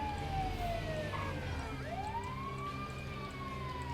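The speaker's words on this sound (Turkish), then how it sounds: "O kadar siren çalıyoruz." An ambulance siren in the video game GTA 5 wails in continuous rising and falling sweeps, steady and fairly loud, with traffic rumble beneath.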